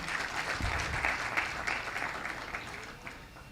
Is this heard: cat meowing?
no